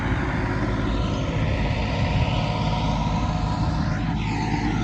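A tractor engine running in a farm field, a steady, loud mechanical drone with a rough low rumble that holds constant and close throughout, with no voices.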